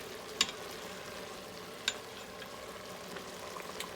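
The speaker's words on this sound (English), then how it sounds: "I'm gonna have my helper mix it in there." Lasagna ingredients are stirred inside a warm Instant Pot: a soft sizzling bed of sound with two sharp utensil clinks against the pot and faint scraping between them.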